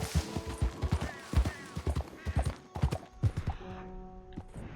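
Horse hooves clip-clop in Red Dead Redemption 2, a run of sharp evenly paced thuds up close that fade to a quieter tail with a faint tone near the end.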